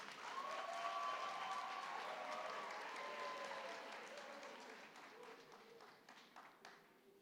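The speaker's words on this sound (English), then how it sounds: "Let us please clap for our graduate." A university graduation ceremony audience in Keetmanshoop applauds a graduate with a steady, dense crowd of clapping that slowly fades, with a few voices faintly audible beneath it.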